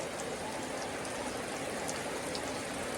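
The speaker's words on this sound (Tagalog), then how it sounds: "Sobrang lakas ng ulan dito sa amin sa Quezon Province." Heavy rain pouring down in Quezon Province, a dense, continuous hiss and patter of drops on surfaces with faint splashes, steady and enveloping throughout.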